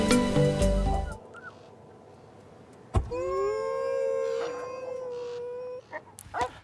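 Howling rises as a long, wavering tone that holds for several seconds after a few sharp clicks and knocks, with a brief jumble of louder noise at the start and end.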